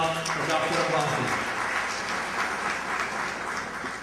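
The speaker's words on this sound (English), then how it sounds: "Please give a round of applause for Dr. Abbasi." Applause from a crowd at a chamber of commerce gala honoring a founding father, broad and sustained, with voices and background murmur mixed in near the start.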